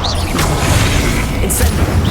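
A Confringo blasting spell explodes in Hogwarts Legacy, a loud, dense booming burst with crackling debris filling the moment close and forceful.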